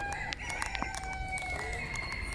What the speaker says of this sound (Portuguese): tem galo carijó